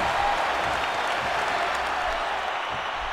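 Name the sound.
crowd cheering in the video game WWE 2K15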